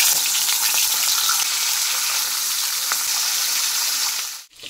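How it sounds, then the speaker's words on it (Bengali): Fish pieces frying in hot oil in a kadai give a steady, dense sizzle that holds loud and even for several seconds, then drops away suddenly near the end. "ফ্রিজে 3 পিস মাছ ছিল, এখন সেই মাছটাকে ভাজতে বসাচ্ছি।"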